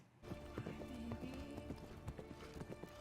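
Horse hooves clip-clop in a steady uneven rhythm under a dense, noisy background, moderately close.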